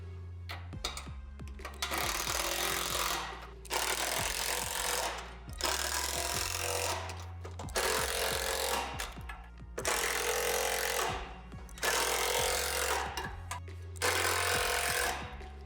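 A power tool tightens hardware on a Lifetime Adventure Castle playset in about six loud, rattling bursts. Each burst lasts roughly two seconds and is separated by short pauses, close to the listener.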